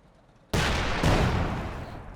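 A weapon fires in the V3 strategy game, a sudden loud burst of blasts that hits hard, surges again a half second later and rumbles on, with no talk over it.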